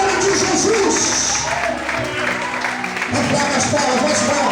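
Church congregation applauding during a worship service, a steady wash of many hands clapping that fills the space and carries on without a break, with voices mixed in.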